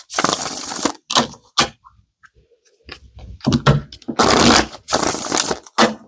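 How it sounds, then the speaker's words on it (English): Tarot cards riffle and slap together in several quick bursts with short pauses between them, close and crisp. "Let's shuffle."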